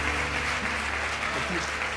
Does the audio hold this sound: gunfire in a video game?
no